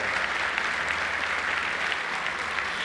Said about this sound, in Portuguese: Bata palmas para Jesus.